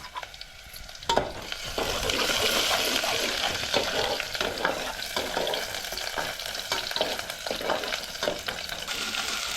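Chopped onions sizzle and fry in a pan over a gas stove set up outdoors for cooking a crab curry, with a steady loud hiss after a clatter as they drop in, and occasional stirring scrapes.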